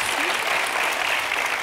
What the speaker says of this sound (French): Des applaudissements chaleureux que vous méritez bien, Muriel, avec ce beau métier